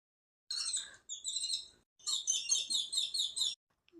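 High sparrow chirps ring out nearby in short bursts, then a quicker repeated string of tweets before falling silent.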